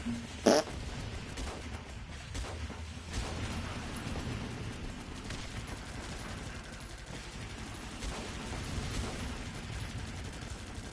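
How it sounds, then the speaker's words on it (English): A short, blurting fart-cushion noise in a video game pops out near the start, followed by a low, steady background hum with faint scattered clicks. "And that was a fart cushion."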